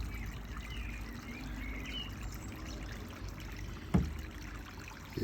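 Water flows steadily through a small hydraulic model of a pond weir and fish pass, a faint continuous trickle and pour, with a brief knock near the end.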